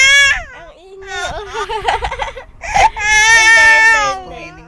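An infant wails in loud, wavering cries with brief sobbing catches between them, close by and dominant.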